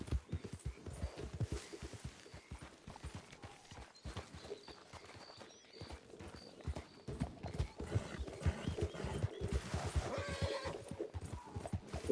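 Horse hooves clip-clop steadily through Red Dead Redemption 2, each step close and clear, with a horse's whinny and snorts breaking in now and then.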